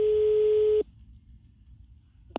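Telephone call tone sounds as one steady electronic beep, then stops, leaving a quiet line with a brief click at the end.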